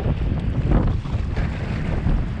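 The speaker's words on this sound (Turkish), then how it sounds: "Rüzgar arttı." Steady wind buffeting close to the microphone, a low continuous rumble with gusts, over a faint watery wash like a boat on open water, during sea bass fishing.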